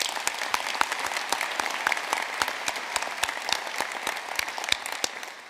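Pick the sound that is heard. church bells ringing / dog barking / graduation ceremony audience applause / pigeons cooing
graduation ceremony audience applause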